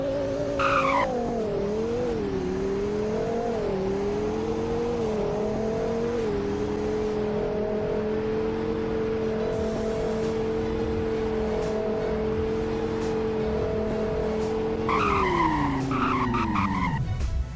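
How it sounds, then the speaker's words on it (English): A video game car brakes hard from 100 to 0, with a steady loud engine drone sliding down in pitch and tires squealing and skidding, closing with a sharper screech. "now for a 0 to 100 in braking test."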